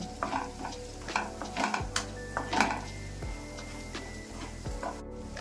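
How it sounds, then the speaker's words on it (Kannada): A spoon scrapes and clanks in a pan, stirring spices into a hot tempering for spicy potato fry, several rhythmic metallic strokes over a low sizzle, close up and without talk. "ಇದನ್ನೆಲ್ಲ ಇದ್ರ ಜೊತೆ ಒಗ್ಗರಣೆ ಜೊತೆ ಮಿಕ್ಸ್ ಮಾಡ್ಕೊಂಬೋಣ"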